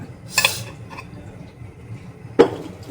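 Spice powder of fenugreek and mustard going into a cooking pan, with two distinct clinks of a spoon against metal, one early and one near the end, over a faint background hum.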